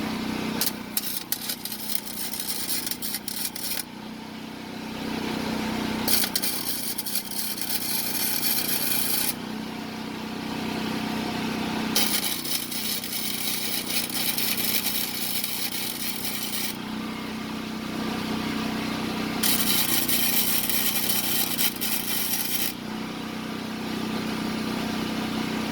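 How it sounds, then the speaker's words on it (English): Arc welding on a Freightliner, building up weld metal on a broken, stripped transmission bolt during clutch replacement: steady crackling buzz in several long bursts of a few seconds each, separated by brief pauses, close and fairly loud, with no talk. "I'm gonna go ahead and start welding now."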